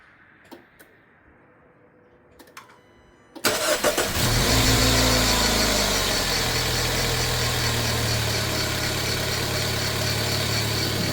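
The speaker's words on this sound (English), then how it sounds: "Hopefully it'll just start up and run normal to the best of its ability" A 2013 Dodge Dart engine, with its cooling fans disconnected, cranks briefly after a few quiet clicks, catches, and settles into a steady, loud idle that runs to the end without speech.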